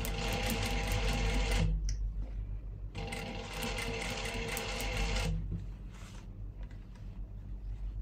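A sewing machine stitches a zip into a nightdress in a loud, rapid mechanical whirr that runs in two bursts, stops briefly between them, then fades to a low hum.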